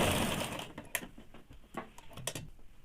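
A sewing machine stitches the shoulder seams of a saree-matching blouse, giving quiet, quick bursts of mechanical clatter with short pauses between runs, faint and close.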